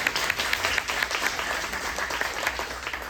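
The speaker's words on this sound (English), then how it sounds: "Round of applause, please" An audience applauds after a business panel at an annual meeting, steady dense clapping from a room full of people that continues throughout without a break.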